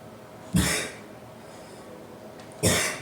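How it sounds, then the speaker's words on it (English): Two sharp coughs about two seconds apart, close and fairly loud, over a steady background hiss. "you gotta stop coughing"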